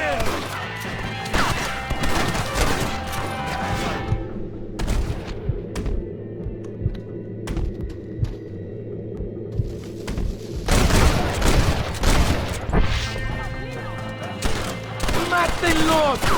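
Rapid gunfire and crashing impacts from a Red Dead Redemption shootout, loud and dense bursts of shots throughout with a brief lull midway, shouting voices mixed in.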